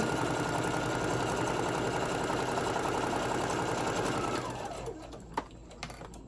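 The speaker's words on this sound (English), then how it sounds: "You're gonna sew all the way down." A sewing machine stitches fabric for a tote bag with a steady, close, whirring mechanical run that stops near the end, followed by a few small clicks and handling sounds.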